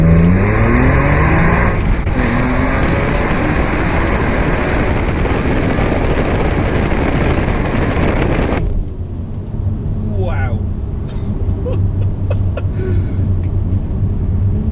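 A 2004 BMW E46 M3 with an SMG gearbox accelerates hard from first gear inside a tunnel, its loud engine roar climbing and booming off the walls before cutting back abruptly to a quieter drone.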